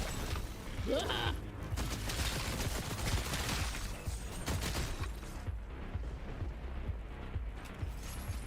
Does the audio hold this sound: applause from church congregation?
no